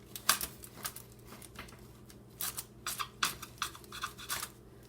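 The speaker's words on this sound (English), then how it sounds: "I'm going to cut into it to see the texture of the inside." A knife saws into a freshly baked loaf of old-fashioned banana bread, giving a quiet series of soft rasping scrapes, first sparse and then quicker and denser strokes, close and faint with no talk.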